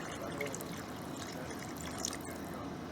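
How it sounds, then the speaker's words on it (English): Water is poured into a cooking pot for picadillo on an outdoor patio, a steady close splashing and trickling that runs unbroken for a few seconds. "But I'm going to add a little water."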